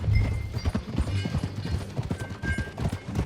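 Horse hooves clip-clop at a steady walking rhythm in Red Dead Redemption 2, with a soft layer of ambient game sound beneath the moderately close footfalls.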